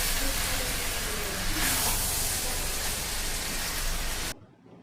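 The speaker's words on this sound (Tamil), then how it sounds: "நெக்ஸ்ட்டு பாஸ்மதி அரிசி போட்டு சாப்பாடை நல்லா கிளறி விட்டுடலாம்." Egg fried rice with basmati rice stirred in a hot pan, a loud steady hissing sizzle throughout that stops abruptly near the end.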